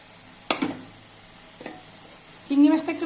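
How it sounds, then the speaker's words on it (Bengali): Prawns dropped into a hot pan of taro leaves, bringing a few sharp clatters and then a rising sizzle, fairly quiet overall. "এবার আমি চিংড়ি মাছগুলো দিয়ে দেব।"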